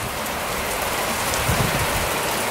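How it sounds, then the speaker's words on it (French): Heavy rain pours steadily on a cold day in the UK, a dense, even hiss of drops hitting surfaces that fills the whole stretch with no voices. "Il pleut, il fait froid."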